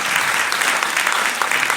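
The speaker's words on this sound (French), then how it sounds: "Merci, on peut l'applaudir." Loud, dense applause from the audience at an international congress for victims of terrorism: continuous clapping from a large crowd, with no speech.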